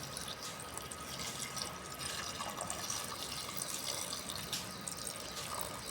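Water runs steadily from a tap or jug onto neem leaves in a container, a continuous close splashing and trickling for about six seconds with no one speaking.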